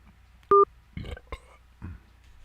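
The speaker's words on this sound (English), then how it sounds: "I should dial the hotel" Telephone keypad tone from dialing a hotel's automated line: a single short, loud beep, followed by a few faint murmurs and low sounds.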